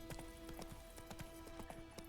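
Roach the horse's hooves clip-clop at a steady walking pace in a video game, a quiet, even rhythm of light hoof strikes with no talking.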